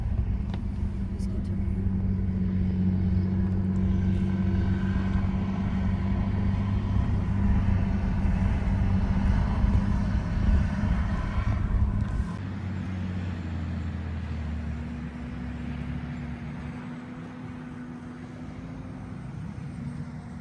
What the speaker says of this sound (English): These trucks coming in are big.